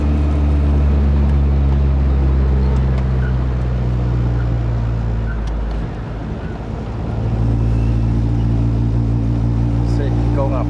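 A sedan's engine drones steadily as the car merges onto a freeway and struggles to gain speed under full throttle, with constant road and wind rumble throughout.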